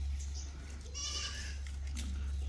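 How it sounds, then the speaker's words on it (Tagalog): A farm goat bleats once, a clear wavering call standing out over a steady low hum and rustling background, moderately close. "Ayan po yung kambing natin."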